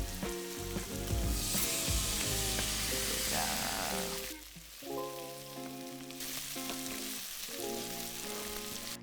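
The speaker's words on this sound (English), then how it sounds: "So we're gonna let some onions and tomatoes stew together with our spices." Onions and tomatoes stew with spices in a pan for a coconut chickpea curry, making a loud, continuous frying sizzle with stirring. Music plays over it, and the sizzle briefly dips partway through.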